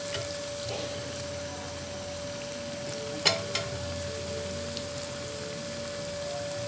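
Sweet poha cutlet frying in a pan over medium heat, a soft constant sizzle with a steady hum beneath and a couple of brief clicks, close but quiet.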